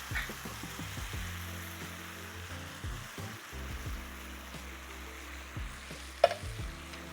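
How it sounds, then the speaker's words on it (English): Beef mince with a tin of crushed tomatoes bubbling gently in a pan, soft simmering with faint stirring knocks and one sharp clink near the end. "And just lower the heat and simmer the meat for about 10 to 12 minutes."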